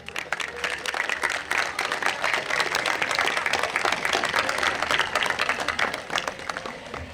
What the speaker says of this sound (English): And a round of applause for the class advisor, Vince Yakunis.